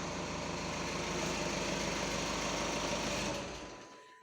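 A 2013 Skoda Superb 2.0 TDI diesel engine idles steadily, close and even for a few seconds, then quickly dies away to quiet.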